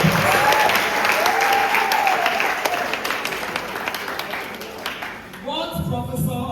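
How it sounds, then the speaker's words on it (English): Sustained audience applause fills an alumni lecture hall, dense steady clapping that tapers off before talk and light crowd murmur take over near the end. "So can we give her another round of applause?"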